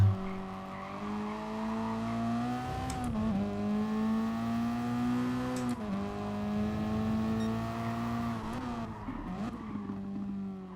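Engine of a race car in a racing video game drones steadily at high revs for about eleven seconds, pitch dipping and rising through gear changes with brief tyre squeals, no voices over it.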